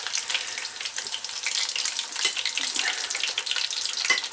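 Beer-battered mushrooms deep frying in hot oil, a steady dense crackling hiss that holds evenly throughout, close and fairly loud with small pops scattered through it and no voices.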